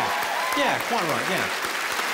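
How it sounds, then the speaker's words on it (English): A comedy show audience applauds steadily as someone speaks over the clapping from close by, the applause a dense, even wash throughout. "Let's have a round of applause for the ladies."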